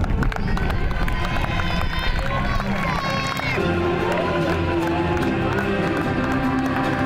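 A crowd applauds a player at a tournament awards ceremony, with dense, sustained clapping and cheering mixed with music and background voices.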